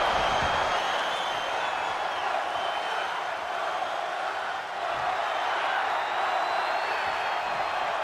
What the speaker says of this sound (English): And the crowd chanting one more time.